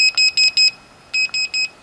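A MAD FSX bite indicator emits two bursts of high electronic beeps as it is switched on, four or five quick tones in each group, close and clear against a quiet background.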